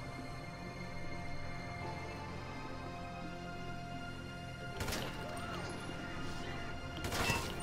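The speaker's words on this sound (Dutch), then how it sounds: "Wachten, we moeten eerst de camera's kapot schieten." Security cameras in a bank-robbery video game being shot and smashed: two sharp crashing bursts near the end stand out over a steady game background, with no talk.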